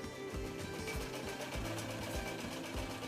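An Usha sewing machine runs steadily in a quiet room, its needle mechanism thumping in an even, repeating rhythm about every half second, faint and unaccompanied.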